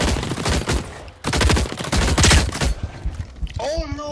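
Rapid bursts of gunfire in The Cycle Frontier video game, loud close volleys in two dense stretches separated by a brief pause, with a voice speaking near the end.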